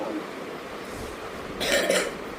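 A person coughs indoors, a short burst of a couple of harsh coughs near the end over a low room background.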